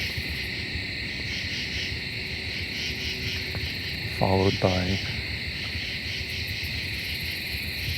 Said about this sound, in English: It's almost like there's a kind of bedding of crickets,